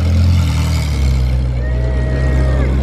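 A Ferrari Scuderia fitted with a Capristo exhaust idles and revs loudly nearby, a deep sustained engine rumble that rises slightly in pitch partway through.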